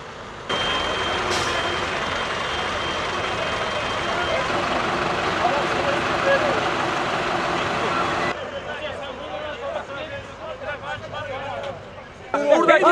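At a farmers' protest, heavy trucks and tractors rumble and move, with a reversing beeper and a crowd's babble and shouting around them, loud and continuous before the engines thin out and people talk.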